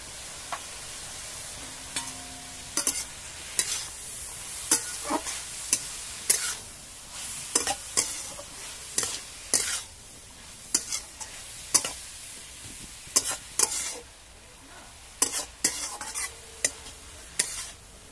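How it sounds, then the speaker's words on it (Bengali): Vegetables seasoned with turmeric and chili powder sizzle steadily in a pan while a utensil scrapes and stirs them in sharp, repeated strokes, close and without talk. "সবজিগুলো আমার ভালোভাবে ভাজা হয়ে গেছে।"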